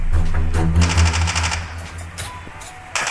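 Rapid automatic gunfire in Call of Duty, fired in fast repeating bursts that sound close and loud, with a brief pause and then another shot near the end.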